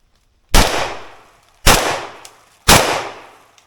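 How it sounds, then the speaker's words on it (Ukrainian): Three separate, loud shots from an AK-74K rifle fitted with a muzzle device, each a sharp crack followed by a decaying outdoor echo, spaced about a second apart with silence between. "продовжую, патрончики ще є. І так само три постріли."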